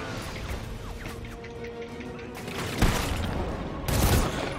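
Gunfire in the Batman Arkham City video game: scattered shots and two heavier bursts of fire over a busy game soundscape with clanks and scraps, fairly close and loud, no talk.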